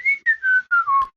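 A person whistles a short, clear, descending tune in five close phrases, up close and alone, ending with a soft knock.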